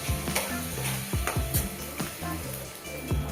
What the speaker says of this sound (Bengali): মশলাটাকে ভালোভাবে কষে নেব